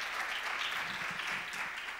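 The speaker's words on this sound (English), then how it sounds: "can I have a big applause for Market Biel?" Applause from a conference audience at a Java talk, a dense steady wash of many hands clapping that holds at an even level throughout, with no voices standing out.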